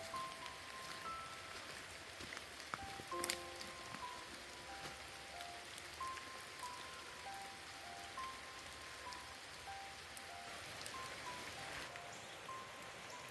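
Steady rain patters on surfaces, a soft continuous hiss with scattered drops, faint and unbroken, no voices.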